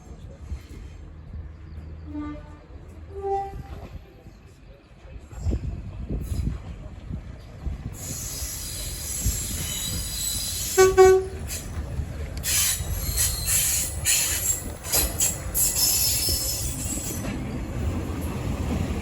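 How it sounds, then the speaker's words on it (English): A train pulls into a heritage station on the Midland Railway during a spring diesel event, with rumbling wheels, a horn blast and loud squealing brakes as it arrives close by. "And our train's just arriving."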